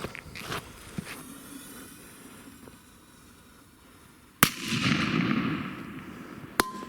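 A ZENA Colour Bang firecracker goes off outdoors with a sharp, loud crack and a rushing crackling tail, then a second brief crack a couple of seconds later.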